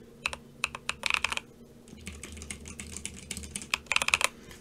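Epomaker EP75 mechanical keyboard with a thunky sound being typed on close up, bursts of quick keystrokes separated by short pauses in a quiet room.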